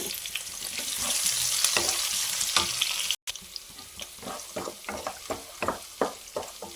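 Chopped onion and three green chillies fry alongside dried red chillies in a pan for poha upma, a steady close sizzle with scattered crackles and spatters and a brief gap partway through.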